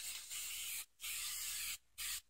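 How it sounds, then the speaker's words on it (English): Montana-type spray paint cans hiss out in three sharp bursts with short silent gaps between them, loud and close, and no voices. "if you use like paints like Montana spray paints or all these tagging spray paints"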